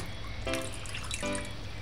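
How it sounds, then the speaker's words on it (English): Rinse water drains off freshly washed callaloo leaves in two short trickling, dripping bursts, close and fairly quiet, with no talking. "Do that a few times and then drain that water off."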